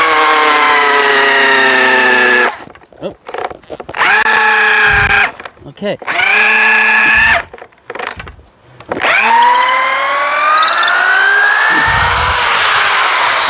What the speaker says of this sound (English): You wanna get a nice strong drill with a nice long bit.